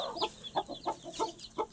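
A hen with six or seven chicks hatched that day clucks in short soft bursts, about half a dozen repeated calls at close range with faint peeping between, no voices.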